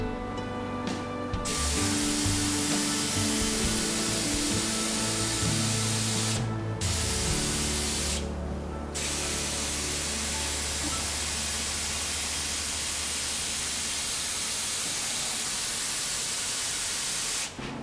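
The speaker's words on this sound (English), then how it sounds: "whenever you're spraying glazes" A steady, hissing spray of ceramic glaze runs almost continuously for the whole stretch, close and loud, with a few brief breaks near the start.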